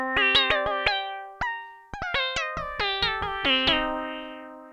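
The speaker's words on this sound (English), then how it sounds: "It's kind of like a plucked string sound" A plucked-string patch on an Arturia MicroFreak, played through the Karplus-Strong engine, sounds a quick series of bright, ringing synth plucks in a melodic pattern. Each note decays quickly, and the last one rings out longer.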